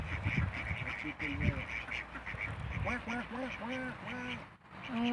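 Wild ducks being fed bread quack repeatedly in a rapid series of nasal calls, close and clear, while someone talks over them outdoors.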